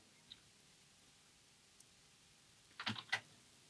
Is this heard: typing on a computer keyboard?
yes